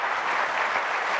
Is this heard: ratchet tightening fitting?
no